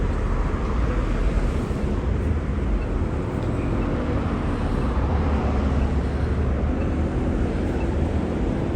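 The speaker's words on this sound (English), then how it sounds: "this is what the traffic looks like here at night" Night street traffic on the Las Vegas Strip, a dense, loud and continuous roar of engines and rumbling vehicles passing close by, with no voices on top.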